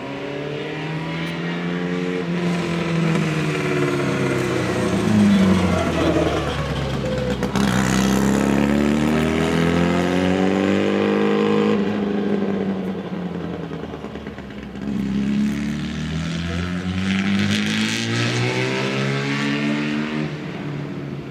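A vintage Elva Formula Junior race car, red and black number 75, at a classic car meet in Hershey, Pennsylvania, its engine loud and close, revving up and down in sweeping rises and falls.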